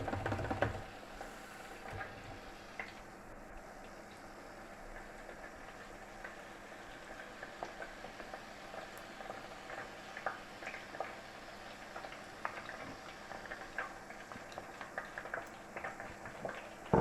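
Chips fry in hot oil with a faint, continuous crackle and bubbling, a quiet sputter that carries on evenly with occasional small pops.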